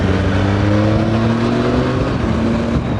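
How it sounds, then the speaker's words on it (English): A 2015 Triumph Tiger 800 XRx motorcycle pulls hard with a steady, loud, close engine drone, blending induction roar, a faint whistle and the exhaust note. "That induction roar, the whistle, the exhaust note,"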